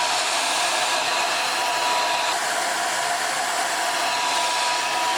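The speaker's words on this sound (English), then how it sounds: "I'm gonna use my blow dryer." A blow dryer on its cool setting blows steadily over wig glue, a close, loud, unbroken whoosh that stays constant from start to finish with no talking.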